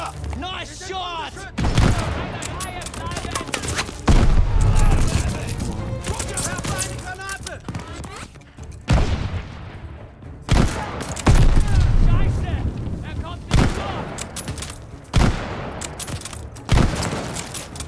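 Bursts of rifle and machine-gun fire with booms crackle through a Call of Duty Vanguard battle at El Alamein, loud volleys coming in waves while shouted voices talk over the combat.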